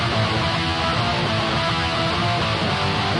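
Distorted rhythm guitar from a Kemper profiler with no EQ cleanup, its dense, saturated tone carrying a harsh, fizzy top end, playing steadily and loudly throughout with no pauses.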